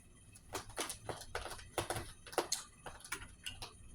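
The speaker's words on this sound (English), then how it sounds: "that is the sound of a cat clawing, sharpening her claws" Quiet, rhythmic scratching and raking strokes of a cat sharpening its claws, dragged repeatedly across a rough surface, close by and soft, in irregular quick bursts.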